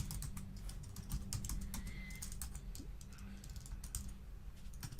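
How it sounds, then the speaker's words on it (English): Steady typing on a computer keyboard, dense rapid key clicks running throughout at close range over a low room hum, with no voices. "Now if my typing was better, this would not be as long."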